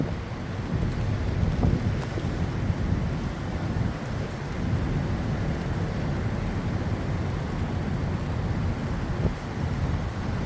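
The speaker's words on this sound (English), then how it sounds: "it's been kind of windy" Strong wind blowing at a beach on a stormy day, a constant loud roar and buffeting rumble over the microphone with surf noise mixed underneath, steady for the whole stretch.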